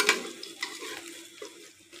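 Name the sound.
tempering spices spluttering in oil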